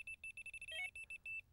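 A Delkim Rx Plus Pro bite alarm receiver emits a rapid series of short, evenly spaced electronic beeps, with a brief warbling tone in the middle, close and clear with no talk.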